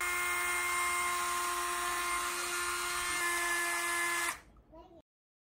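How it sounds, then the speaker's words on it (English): A high-pitched power drill whines steadily for about four seconds while drilling into a plastic action figure's thigh, then cuts off and spins down, leaving a brief rattle before silence. "Now to drill the other part of the thigh."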